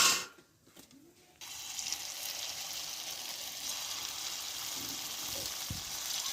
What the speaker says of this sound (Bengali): পরপর এগুলো ভেজে নেব আমি